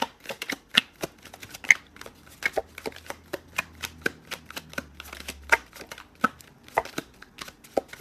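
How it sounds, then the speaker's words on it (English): Tarot cards are shuffled and drawn during a love reading, giving a steady run of crisp, close flicks and slaps of card stock, fairly quiet and with no voice over them. "One more card, please, for Eight of Swords."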